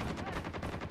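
Rapid bursts of video game gunfire in an online shooter match, a dense rattle of repeated shots at steady volume throughout, with no speech over it.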